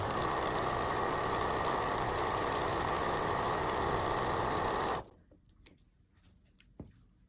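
A sewing machine stitches quilt patchwork pieces at a short stitch length, running loud and steady for about five seconds before stopping, leaving faint handling clicks in a quiet room.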